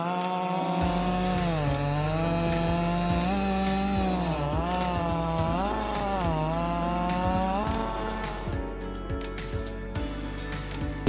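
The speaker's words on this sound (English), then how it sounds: "the most powerful saw in the world is running at 2200 revolutions per minute." A powerful chainsaw running at 2200 revolutions per minute cuts into tree wood, its loud engine whine rising and falling steadily as it bogs into the cut, heard alone and up close.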